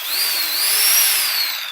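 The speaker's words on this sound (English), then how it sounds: "So I'm going to set this up here so that you can see the notch as I'm drilling it." A power drill bores a notch into a workpiece, a loud, steady high whine that rises slightly in pitch mid-way then eases, continuous throughout with no voices.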